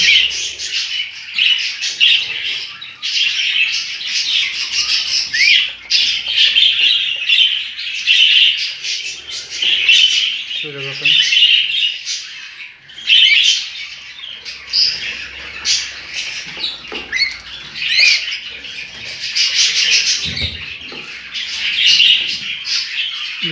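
Cockatiels and budgies in a home breeding aviary keep up a loud, close, continuous chorus of chattering chirps and squawks, with some sharper calls standing out now and then.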